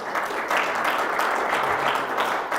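An audience breaks into applause at a talk, a dense, steady wash of many hands clapping that stays loud and even throughout, with no voices standing out.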